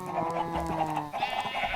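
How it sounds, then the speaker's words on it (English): Cows in Minecraft give drawn-out, tonal lowing calls. Two overlapping calls sound close and fairly loud, and nobody speaks. "We got a bunch of cows."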